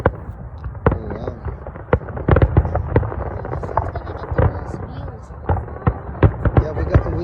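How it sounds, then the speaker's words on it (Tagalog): Canada Day fireworks pop and boom at a distance in a steady, irregular series of sharp bursts, with people talking and reacting in the crowd throughout. "Fireworks."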